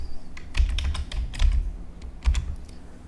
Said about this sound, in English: you have to go to the command prompt and type package manager